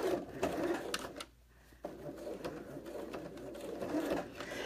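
A sewing machine stitching a fabric pocket for an advent calendar, a steady close mechanical whir with a brief pause partway through before it resumes.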